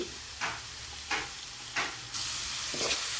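Bitter gourd pieces with garlic paste fry in a pan, a steady hiss and sizzle broken by periodic scraping stirs about every half to one second, close and fairly quiet.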